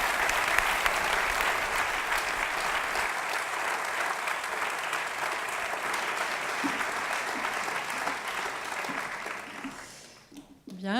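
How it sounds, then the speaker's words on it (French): An audience at a civic celebration in Yverdon-les-Bains claps steadily in dense, sustained applause that fills the hall for about ten seconds before tapering off at the end. "On peut l'applaudir."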